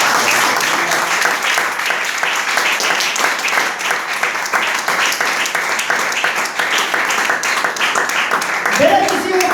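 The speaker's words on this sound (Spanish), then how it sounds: "Dele aplausos al Señor." Church congregation breaks into sustained applause during a Spanish-language sermon, many hands clapping steadily and loudly throughout, with voices and a preacher audible beneath and a brief tone near the end.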